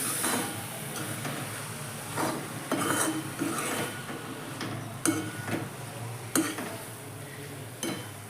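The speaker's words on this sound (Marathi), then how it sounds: "पनीर घालूया आता पनीर घालून मिक्स करून घेऊया" Paneer stirred into a sizzling bhurji masala in a pan: a steady frying hiss with repeated scraping spoon strokes and light clinks against the metal, close and continuous, with no talking.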